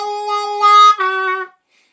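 An A harmonica plays the first line of a song, a few clear held notes with a brief bend between them, close and solo, ending in silence.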